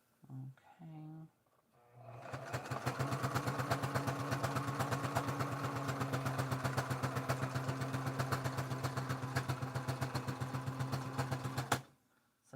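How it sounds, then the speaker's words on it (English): A sewing machine stitches a doll seam with very close stitches, running in a fast, even mechanical rattle for about ten seconds and then stopping abruptly. A brief voice speaks just before it starts. "So I'm sewing it extremely close to keep it sealed."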